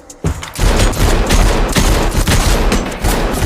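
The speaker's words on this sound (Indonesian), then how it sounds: "adu tembak pun terjadi" Dense, loud gunfire from a shootout in the 2023 film Silent Night, a continuous fusillade of overlapping shots that starts abruptly and rages without pause.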